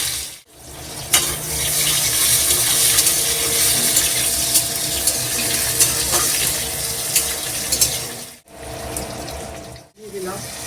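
Ginger and cumin fry in a pan as the base for a rohu fish curry, giving a steady, close hiss of sizzling oil broken by a few short pauses.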